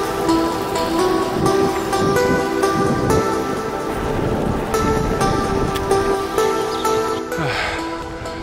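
Heavy rain pours steadily during a bike ride, a dense hissing wash of drops close around, with faint rustling and no clear talk.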